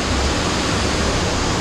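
Loud, dense roar of a waterfall pouring onto rocks, heard up close as continuous broadband rushing with no voices over it.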